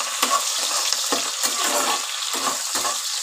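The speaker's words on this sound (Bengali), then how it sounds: "এবার ভালো করে পেঁয়াজগুলো একটু লাল লাল করে ভেজে নেব।" Chopped onions fry in hot oil in a pan while being stirred, a loud close sizzle punctuated by five or six sharp scraping strokes of the spatula at uneven intervals.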